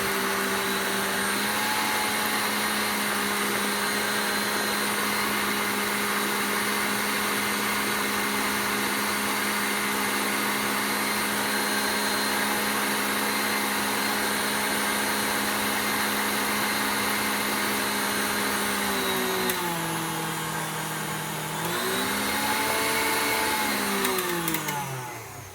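Electric hand mixer beating cheesecake batter in a deep bowl, a steady continuous motor whine that holds for the full stretch and shifts pitch slightly near the end.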